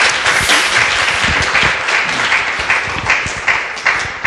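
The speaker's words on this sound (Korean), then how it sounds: "여기서 박수 한번 부탁드려요." A live audience at a Korean radio show recording breaks into loud, sustained applause, a thick wash of many hands clapping at once that carries on evenly to the end.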